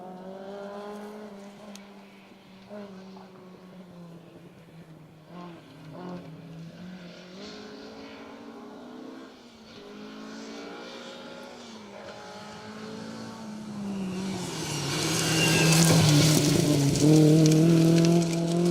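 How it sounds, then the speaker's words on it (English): BMW rally car on a Welsh rally championship stage, heard from afar at first, then growing louder as the engine revs and climbs toward a near pass at the end. "we should see some sweet sounding BMWs dancing their way down the stage"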